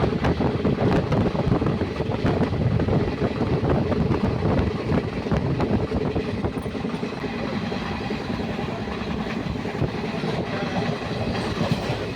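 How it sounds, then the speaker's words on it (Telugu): A train arriving at a station rumbles close by with a rhythmic clickety-clack of wheels on rails, loud and continuous, with no talking. "మేము వెళ్ళాల్సిన ట్రైన్ లేట్గా వచ్చింది"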